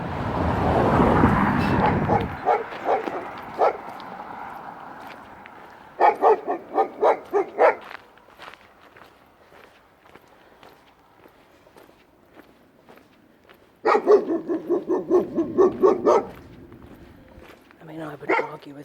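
Dogs bark in short rapid bursts, first a run of yaps then a louder cluster later, somewhat distant, with footsteps on a village walk and some talk earlier.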